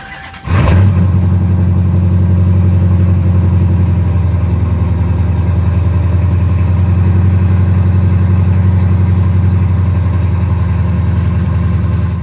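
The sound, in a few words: Dodge Challenger engine starting up and idling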